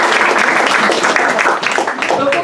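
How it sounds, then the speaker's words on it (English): Audience at an evening event claps in a steady, close patter of applause that holds throughout, loud and full, with no talking over it. "round of applause for her"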